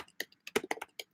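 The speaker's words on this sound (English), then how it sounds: "now you're typing" Someone types on a computer keyboard, a quick irregular run of close, crisp keystroke clicks lasting about a second, with silence between the taps.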